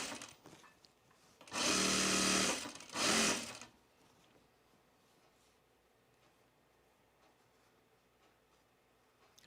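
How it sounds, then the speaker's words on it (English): A sewing machine stitches a fabric tool case in two loud, close bursts, a longer run and then a shorter one, with quiet room sound before and after. "I'm going to sew this so that I edge finish it at the top here."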